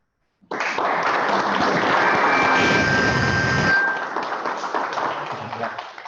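Audience applause at a school board of education meeting: a dense burst of clapping starts abruptly, holds steady and loud for about three seconds, then thins into scattered, fading claps.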